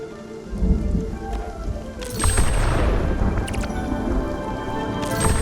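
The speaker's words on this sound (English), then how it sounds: "A lightning storm." Lightning storm in the video game Spiritfarer, with steady rain hissing throughout and a deep rolling thunder swell building midway, loud and close, with no talk.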